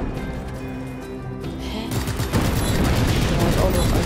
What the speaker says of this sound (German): Boom, Rocket Launcher.